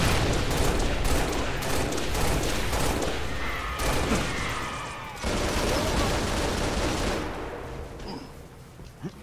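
Dense gunfire crackles in the Halo Reach video game's Prometheus mod on Winter Contingency, loud bursts and rapid volleys with booming blasts that fade somewhat toward the end.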